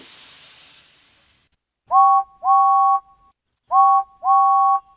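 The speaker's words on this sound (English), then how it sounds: "He's blowing his whistle at her as loudly as he can." James the engine from the animated Thomas & Friends show sounds his train whistle: four loud, steady whistle blasts in two close pairs, following a fading steamy hiss.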